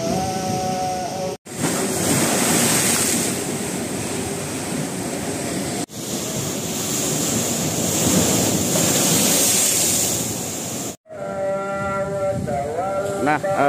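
High surf pounding Labuan beach, a loud continuous roar of breaking waves with wind buffeting the microphone, broken by a few abrupt cuts and faint background tones.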